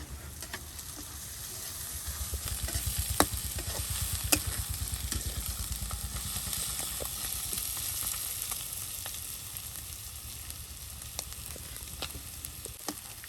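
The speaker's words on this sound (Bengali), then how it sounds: "কত সুন্দর করে পেঁয়াজগুলো একদম দেখুন ঝরঝরে লাল করে ভেজে নেওয়া হলো।" Onions frying on a clay stove outdoors in summer sun, a steady, fairly close sizzle with scattered crackles and stirring knocks running through the whole stretch, alone with no talk.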